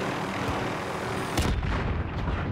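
A player blowing himself up in Call of Duty: Modern Warfare sets off a loud, close blast that bursts out after a stretch of rumbling game noise and rolls on into a low, booming tail.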